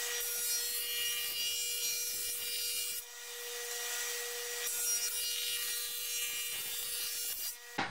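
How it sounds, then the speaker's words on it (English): A wood tool rasps steadily at close range, putting a slight chamfer on the corners of shiplap boards for bathroom wainscoting, with one brief pause midway and an abrupt stop at the end. "Giving the show face a very slight chamfer on the corners."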